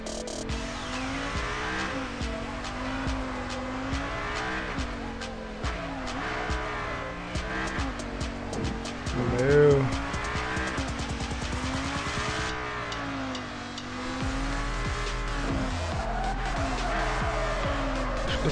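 Cars drifting in the mobile racing game Drift Max Pro, with continuous engine revving and tire squeal layered under game music throughout, steady and loud with a brief louder burst midway.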